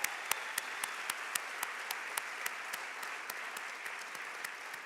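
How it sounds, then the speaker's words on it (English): Audience at an evening celebration applauding a senator, sustained clapping from a crowd with a few sharp, closer claps cutting through at a steady pace. "let's give her a round of applause"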